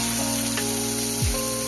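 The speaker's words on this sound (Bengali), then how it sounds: "দেখো এই পেঁয়াজ ভাজার মধ্যে আমি এখানে চিকেনের কিমা করাটাকে দিয়ে দিলাম, কারণ চিকেনের কিমাটা ভাজা হবে" Chicken mince fries with onions in a pan, giving a steady close sizzling hiss throughout with a faint low hum underneath, and no talking.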